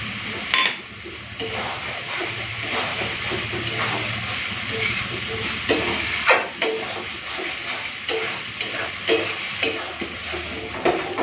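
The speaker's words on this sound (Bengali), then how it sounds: "এখন আমি দিয়ে দিচ্ছি কেটে রাখা টমেটো" Thinly sliced tomatoes going into a frying lote fish curry: a steady sizzling hiss of hot oil broken by soft stirring scrapes and clinks, moderately close, with no talking.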